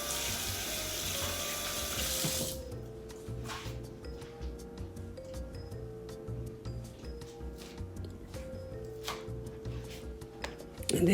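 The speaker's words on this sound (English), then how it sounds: "I'm gonna go ahead and wash my hand. Wash the hand that does not have the glove on." A kitchen tap runs as a hand is washed under it before cooking meatballs, a steady rushing stream that starts loud and continues with splashing while a person talks over it.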